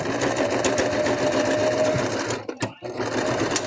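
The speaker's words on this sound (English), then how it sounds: "Just going to do a quick little stitch across that." A sewing machine runs steadily, stitching across fabric for a wizard hat made with star material, a continuous close whir that pauses briefly near the end before resuming.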